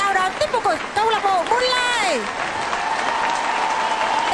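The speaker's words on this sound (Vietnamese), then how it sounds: "xin quý vị một tràng pháo tay thật lớn để chào đón tiết mục của câu lạc bộ" A speaker's voice at a Vietnamese club dance exchange gives way to a loud, sustained wave of audience applause welcoming a solo cha-cha performance. The clapping continues steadily to the end.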